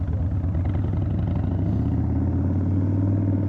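A 2023 Indian Chief motorcycle being ridden: a steady, loud, low engine rumble with an even pulsing throb runs throughout with no gaps.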